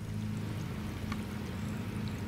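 Hot water trickles steadily from the outlet of a solar water heater used for pool heating, a soft continuous pour that runs alone for the whole stretch.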